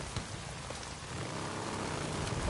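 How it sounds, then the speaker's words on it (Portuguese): Steady rain in the Days Gone video game, a continuous hiss of drops on surfaces that swells slightly toward the end, moderately distant and with no voices. "Chovendo pra caramba aqui, velho."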